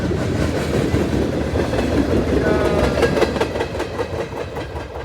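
A Norfolk Southern freight train, 10K, led by NS 4885 and 4889, rolls past close by with a heavy, steady rumble and rhythmic wheel clatter that eases slightly toward the end.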